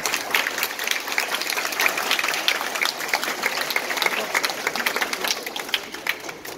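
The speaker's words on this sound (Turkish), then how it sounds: "sizlerden şöyle bir moral alkışı istirham ediyorum" Applause for teachers at a primary education week celebration, a crowd clapping steadily and briskly at moderate distance, the individual claps audible within the sustained wash of sound.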